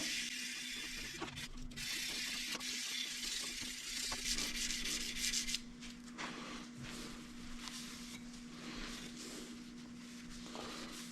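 A canister feather Damascus steel blade is worked with 220-grit abrasive in swirling strokes, giving a steady, continuous rasping scrape over a constant low hum, close and fairly loud with no talking.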